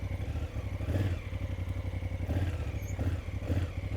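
A motorcycle engine idles and pulses under throttle alone with no clutch, a close, steady low chugging that swells slightly in a few brief surges.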